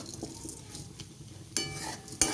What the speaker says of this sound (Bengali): তাই আমি খুব ভালো করে একটু ভেজে নেব আলু নারকেলের সাথে মুগ ডাল আর মসুরি ডাল।